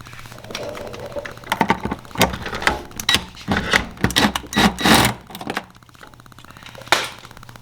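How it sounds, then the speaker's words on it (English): Close, sharp ratcheting clicks and metallic taps in irregular bursts as an 8mm hose clamp on the vent tube of a Polaris RZR Pro XP is loosened with a tool, the sounds alone and with no talk. "We're gonna loosen this hose clamp right here. It's gonna be 8mm."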